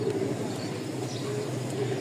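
Rajshahi Giribaz flying pigeons, offered for sale, cooing softly in a low, steady murmur against faint background noise, fairly distant and quiet, with no speech.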